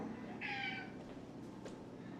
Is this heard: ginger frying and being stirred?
no